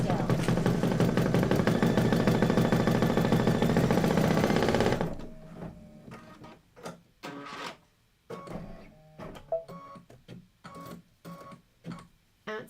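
A sewing machine stitches a quilt block for a Kimberbell autumn quilt, running in one loud, steady, continuous burst for about five seconds, then falling to scattered short clicks and taps as the presser foot and fabric are handled.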